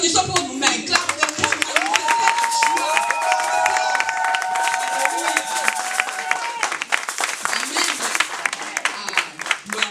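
A crowd of women at a church celebration applauds, brisk clapping spread across the room with cheers and voices rising over it, lively and close throughout.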